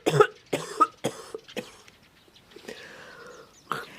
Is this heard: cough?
yes